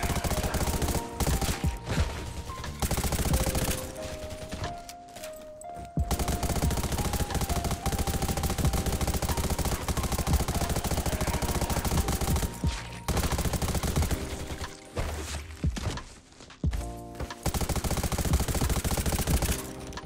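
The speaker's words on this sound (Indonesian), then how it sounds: "Gatling macam apa ini?" Rapid sustained bursts of Gatling machine gun fire in the shooter game Garena Undawn, loud and close, running almost continuously with a few short pauses and layered game effects and music tones.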